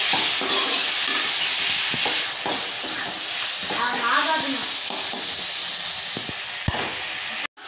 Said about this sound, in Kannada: ಈಗ ಎರಡು ದೊಡ್ಡ ಟೊಮೆಟೊ ಆ್ಯಡ್ ಮಾಡ್ಕೊಳ್ಳಿ ಒಳ್ಳೆ ಸ್ಮ್ಯಾಶ್ ಆಗಲಿ ಟೊಮೆಟೊ